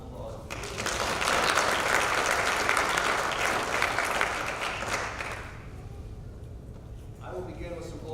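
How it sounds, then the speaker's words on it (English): Sustained applause from an audience at a community meeting, loud and steady for several seconds and then fading out, with a voice briefly audible near the end. "Please give the board and our panelists a round of applause"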